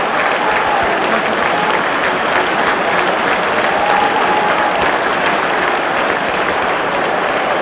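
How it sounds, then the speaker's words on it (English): A stadium crowd at a 1988-89 European Cup match between Milan and Real Madrid applauds Ruud Gullit as he is substituted, a loud, sustained roar of clapping filling the whole stretch. "Sympathetic applause then for Ruud Hullet."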